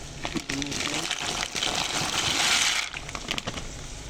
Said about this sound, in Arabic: هلا هون المي للمعكرونة غلت